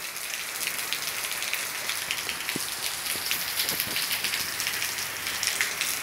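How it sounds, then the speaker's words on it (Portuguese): Heavy rain pours in rural Maranhão, Brazil, a dense steady hiss of drops on surfaces with occasional nearer splashes, close and continuous with no talking. "Ainda está chovendo muito."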